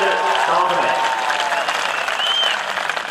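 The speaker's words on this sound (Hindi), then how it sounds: "तालियां हो जाए आपकी।" Applause from the audience at an all-India Hindi poetry gathering fills the hall, a steady dense clapping close by that carries on throughout with voices mixed in.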